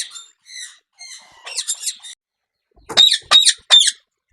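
Caged pet birds at a bird shop, loud close squawks in short bursts: a few thinner calls, then a cluster of harsh squawks, a pause, and three sharp loud squawks.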